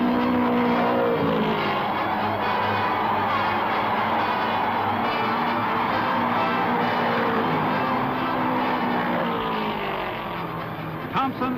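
Indy 500 race cars speed past on the oval, a loud, dense engine howl whose pitch sweeps as cars pass, continuous for several seconds before easing slightly at the end.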